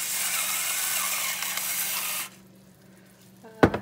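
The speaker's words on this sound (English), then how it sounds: "Could use my pepper grinder, but actually I will." A pepper grinder cranks out coarse pepper in a home kitchen with a steady, close, gritty grinding rasp for about two seconds. It then falls quiet before a short clatter at the end.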